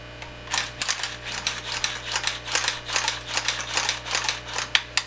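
Metallic clicking and clacking of an AR-15 M4 rifle's action being cycled by hand after QuickenCLP lubricant treatment, a quick irregular series of sharp close mechanical clicks over a low steady hum.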